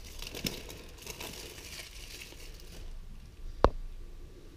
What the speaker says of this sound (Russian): открываем коробочку